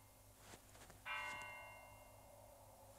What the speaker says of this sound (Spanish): Sí, oigo campanas,